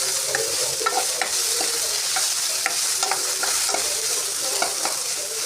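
Tomato and onion sauté in a hot pan, a steady broad sizzle with a spatula scraping and stirring at irregular intervals, close and fairly loud throughout, with no voices.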